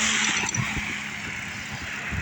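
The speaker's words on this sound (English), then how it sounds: "We got cars coming." Traffic on a rainy road heard from a bicycle, a steady broad wash of engine and tyre noise from passing cars, fairly loud and close, with a slight swell at the start and no voices.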